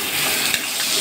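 Spice paste of cumin, turmeric and chilli powders sizzling steadily in hot mustard oil in a pan for an aryan-style begun posto, a continuous close, loud frying hiss with a brief stir knock midway.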